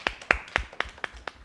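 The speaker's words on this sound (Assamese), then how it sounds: "অকণমান জোৰে জোৰে হাত চাপৰি" Six sparse, evenly spaced claps ring out at close range in a welcome for a child singer at a children's talent stage show, each hand strike sharp and isolated with short pauses between, no voices over them.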